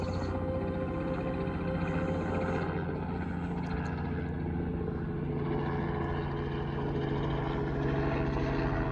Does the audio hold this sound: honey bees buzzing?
no